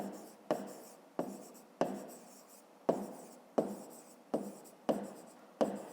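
Pen writing on paper while solving a fifth-grade math exercise: a steady series of about nine short, crisp scratching strokes at a regular rhythm, close and fairly quiet, with no talking.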